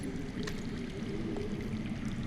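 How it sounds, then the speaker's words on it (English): Water flows underground in a cave setting in the Game of Thrones Telltale video game, a soft continuous gurgling stream at moderate distance, steady and without speech. "That's water. I hear water. From underground."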